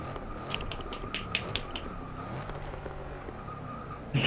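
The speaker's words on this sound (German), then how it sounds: "Ich kann auf mein Bein hauen" A hand slapping on a leg gives about seven sharp, quick smacks in a rough rhythm, close and fairly loud over a low steady hum, and then one louder hit at the very end.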